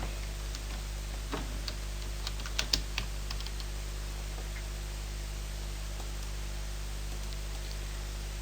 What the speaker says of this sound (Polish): I wpisujemy nasz tekst.